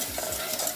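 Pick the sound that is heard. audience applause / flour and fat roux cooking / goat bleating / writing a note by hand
flour and fat roux cooking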